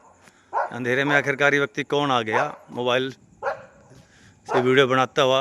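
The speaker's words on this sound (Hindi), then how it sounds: "और इसी अंधेरे के कारण से कुत्ते भी जो है भौंक रहे हैं।" Dogs bark at night in a completely dark neighbourhood ward during a power-off, a few barks mixed in with someone talking steadily close to the microphone.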